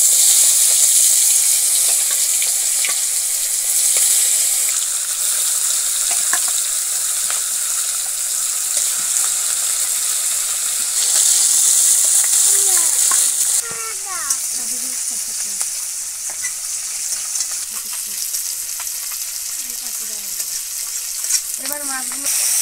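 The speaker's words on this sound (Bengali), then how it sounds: "এবার মাছগুলো ছেড়ে দিচ্ছি।" Fresh pond fish pieces fry in mustard oil, a loud, dense sizzle that runs unbroken throughout, dropping slightly in level partway through, with brief tonal chirps rising above it near the end.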